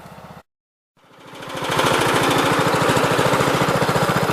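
An Onan NB engine powering a Model 430 garden tractor, cutting out briefly before restarting and settling into a loud, close, rapid steady chugging idle with an even firing rhythm.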